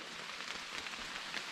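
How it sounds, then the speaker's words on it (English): Rain falling on autumn leaves in the woods during a late-September grouse hunt, a soft, steady patter and hiss heard quietly and continuously. "I decided to keep hunting through the rain"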